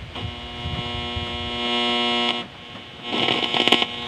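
A steady electrical hum with a buzzy harmonic tone drones from a transistor radio's small speaker, cutting out briefly before returning with crackly noise.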